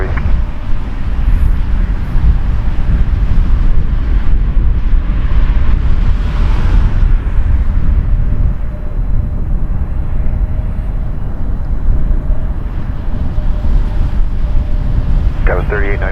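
A heavy jet at Toronto Pearson Airport roars loudly and continuously, a broad rushing rumble mixed with wind noise that swells and slowly fades, with a brief higher noise near the end.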